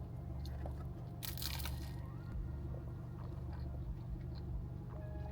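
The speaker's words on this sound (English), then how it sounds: "You know how some croissants can be really crunchy on the outside and the rest of the croissant really dry?" A crunchy croissant gives one short, crisp crunch as it is bitten, quiet against a low steady background hum, followed by faint chewing.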